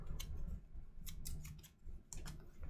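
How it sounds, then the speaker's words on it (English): Cards shuffled for a DC deck-building game, a run of quick riffling bursts that come and go near at hand over a low steady background, with no talk. "Just shuffling everything up here before we do that."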